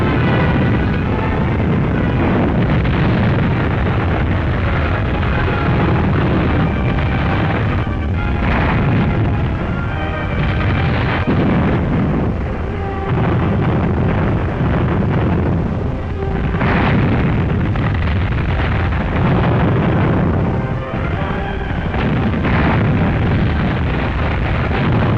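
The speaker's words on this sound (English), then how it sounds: "Super heavy guns support the attack by laying down a terrible barrage around our beachheads." Super heavy 240mm guns lay down an artillery barrage in 1944 wartime newsreel footage, a dense, continuous roar of booming blasts that overlap at close range and stay loud throughout.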